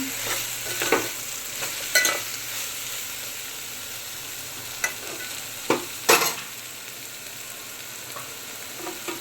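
Pulao seasoned with pulao masala sizzles in a pan while a spoon stirs it, giving a steady frying hiss broken by a handful of short, sharp scrapes, with no talking.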